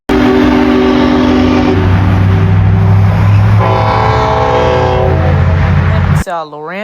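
Loud sustained locomotive horn blasts in Altoona that shift pitch and ring out with echo, over heavy rumble, ending in an abrupt cut.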